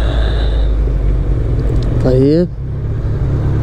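A Honda CB1100 RS motorcycle idles at the roadside with a loud, steady engine drone, then is switched off, the sound dropping away abruptly near the end; someone speaks briefly over it.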